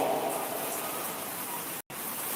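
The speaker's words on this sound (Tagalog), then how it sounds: "lakas na naman ang ulan" Heavy rain pours outdoors in a steady broadband hiss, fairly faint overall, with a brief dropout near the end; a motorbike is parked out in the downpour.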